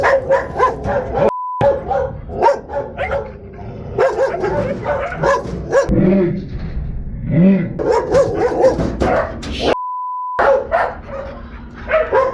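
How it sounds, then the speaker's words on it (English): A dog on a rooftop in Manzanillo barks loudly and repeatedly in rapid volleys, with some yips and whimpers mixed in, close and dominant throughout with faint voices underneath. "There's a goddamn scary roof dog."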